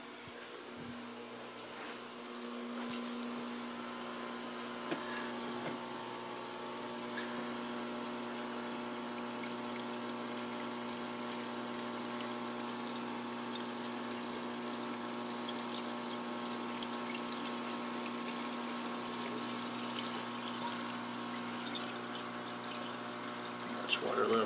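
A liquid pump runs with water flowing, a constant humming drone with a faint trickle beneath it that holds steady throughout at moderate, somewhat distant volume.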